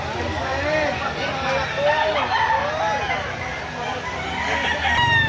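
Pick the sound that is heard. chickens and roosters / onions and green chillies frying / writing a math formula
chickens and roosters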